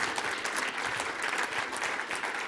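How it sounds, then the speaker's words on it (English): An audience applauds at an awards event, a steady, dense clatter of many hands clapping that carries on evenly from start to finish with no voices on top. "Round of applause for them."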